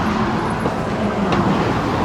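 Motorway traffic streams past at a roadside work zone, a loud, dense continuous roar of cars and heavier vehicles with no breaks.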